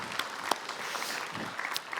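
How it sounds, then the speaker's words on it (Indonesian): An audience at a televised event claps continuously for a couple of seconds, a dense steady patter of many hands at moderate volume with a few sharper individual claps. "Boleh kita berikan tepuk tangan sekali untuk Ida."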